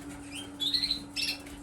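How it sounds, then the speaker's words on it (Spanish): Birds outdoors at the end of the afternoon, giving short high chirps in two brief bursts over a steady low hum, fairly faint and without talk. "Bueno, pues aquí estamos, disfrutando de los pájaros en este final de tarde."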